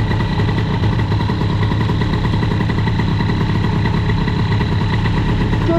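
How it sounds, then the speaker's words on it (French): Metrakit 70 moped engine with a Nitro PPA and Boost crankcase, running steadily on the road at high revs in a continuous loud buzzing drone throughout, with no voices. "Qu'est-ce qui tourne bien ce moteur?"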